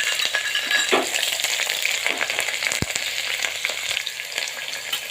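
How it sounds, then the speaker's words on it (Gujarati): Onion and capsicum frying in hot oil with garlic, a dense, crackling sizzle, a few sharp clinks of a utensil against the pan; no talking. "ડુંગળી અને કેપ્સિકમ નાખું છું।"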